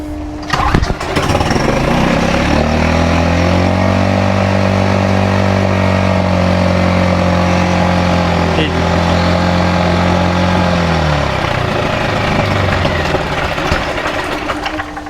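A 6 horsepower Suzuki outboard on a dinghy, with a carburetor fault, pulls into life, runs at a loud steady idle close by, then stalls and winds down near the end.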